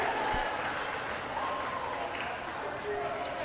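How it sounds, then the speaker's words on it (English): Basketball crowd roaring steadily through a Flatbush versus MDY play-in game at the Sarachek 2025 tournament, a dense sustained cheer filling the gym with faint whistles and shouts poking through, no clear pauses. "this Flatbush crowd is just fired up right now"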